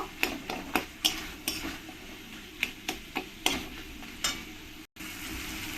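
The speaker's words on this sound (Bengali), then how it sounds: "সব কিছুর সঙ্গে মিশিয়ে ভালো করে আমি এরকম করে ঘুটে নেব" A spoon stirs and scrapes Kashmiri chilli powder into a prawn curry spice mixture in a pan, giving repeated sharp clinks and scrapes over a soft steady sizzle, with no talk.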